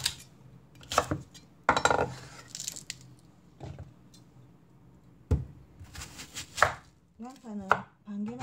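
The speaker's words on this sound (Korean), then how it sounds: "저는 오늘 야채를 이렇게 갈아가지고" A knife chops vegetables for omurice on a board in a home kitchen. Sharp, irregular cutting knocks mix with clinks of dishes and utensils, close and moderately loud.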